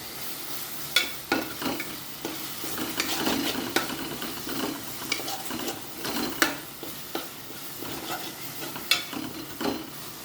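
Green peas tossed into tomato masala frying in a pan for matar paneer, with a soft steady sizzle under scattered scraping and stirring clicks of a spoon against the pan.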